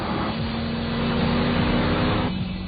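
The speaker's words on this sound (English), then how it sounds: "The engine a bit empty, still making plenty of noise." A Lamborghini Diablo GT engine gives a loud, steady, slightly hollow drone with some roughness from the running car, close up and alone for under three seconds.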